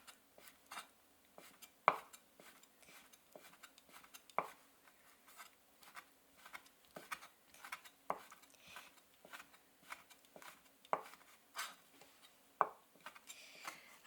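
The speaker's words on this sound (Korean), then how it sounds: "최대한 얇게 채를 썰어서 준비합니다." A knife cutting meat into very thin strips on a board, for chive japchae in a Chinese cooking practical exam, giving quiet, steady, irregular taps and scrapes, close and faint, no voices.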